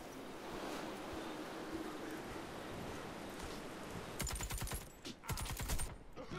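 A rumbling battlefield wash of distant gunfire in Warface's battle royale mode, then a close burst of rapid automatic shots near the end.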